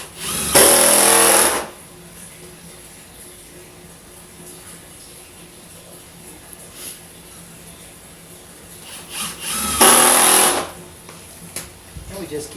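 Two short bursts from a power drill drive screws into pilot holes while installing the sides of an aquaponics bed, each whir lasting about a second with a quiet gap between.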